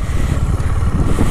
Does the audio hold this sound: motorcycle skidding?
yes